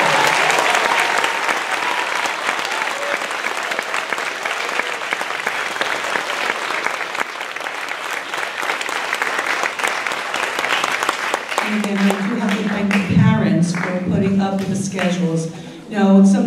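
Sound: audience applause for orchestra students

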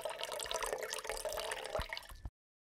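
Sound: water being poured for weighing on a scale

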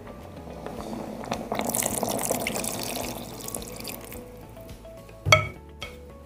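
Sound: adding meat and broth to pot for Iraqi okra stew

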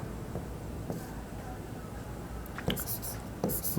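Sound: pen writing an accounting journal entry

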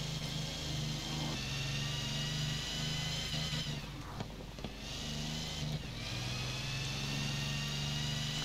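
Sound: Napier Railton 24-litre plane engine revving in Forza Horizon 4 video game

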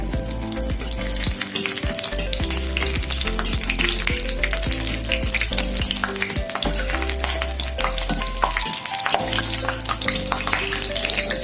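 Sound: frying raisins in oil and ghee

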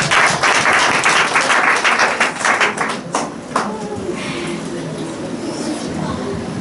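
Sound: audience clapping

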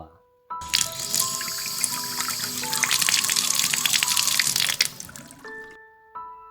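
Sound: water running from kitchen tap

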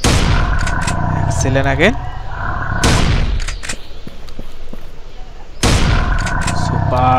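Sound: gunshots in the video game Dinosaur Hunter Jungle Safari

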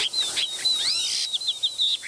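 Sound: bird chirping

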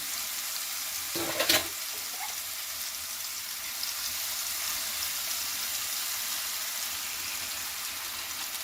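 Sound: pumpkin mixture stirred and frying in a pan

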